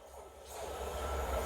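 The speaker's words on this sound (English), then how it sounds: "The train now approaching platform 2 does not stop." A train running through a station platform without stopping on a British line, a steady rising rumble of wheels and carriage noise drawing nearer over the clip.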